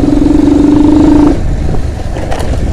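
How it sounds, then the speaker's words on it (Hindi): Motorcycle engine on a night ride through traffic, a loud close rumble with a steady droning note that drops off after about a second, then rough wind-buffeted engine noise. "गाड़ी का साउंड चेक करना ब्रो"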